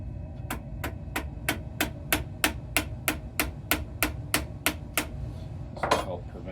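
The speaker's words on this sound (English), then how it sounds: "tap the back of the screwdriver to make sure that the screwdriver head seats down in there quite well before we turn" Light hammer taps on the back of a screwdriver seated in a screw during restoration of an 1863 Sharps New Model rifle, about fifteen crisp metallic knocks in a steady, even rhythm, close and clear, ending with a brief rustle.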